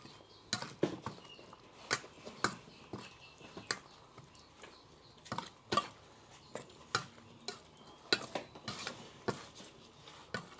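Stirring garlic, shallots, spring onion and fresh chili into boiled chicken with fish sauce: quiet, irregular scraping and clinking of a utensil against the pan, repeated many times, soft and close.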